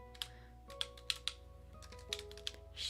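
A web address is typed on a computer keyboard: a quiet, irregular run of separate key clicks with short pauses between bursts, close to the microphone over a low background hum.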